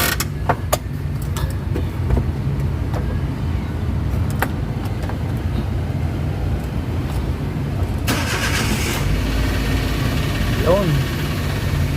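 A Suzuki DA64 automatic van's small engine cranks and starts, then settles into a steady low idle, heard close with scattered clicks and people talking over it.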